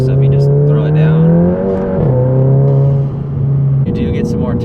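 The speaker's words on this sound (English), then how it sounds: "you do get some more turbo noise out of the car with this turbo" A VW GTI upgraded with an IS38 turbo accelerates hard, its engine drone strong and close, holding steady tones that drop at gear changes, while someone talks over it.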